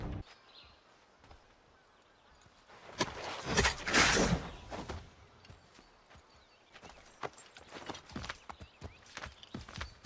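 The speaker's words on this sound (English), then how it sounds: "the first thing I do as him is peacefully acquire a horse" Horse hooves clopping in Assassin's Creed III, a rapid burst of hoofbeats peaking near the middle, then scattered irregular steps continuing to the end, fairly close and moderately loud with no talk.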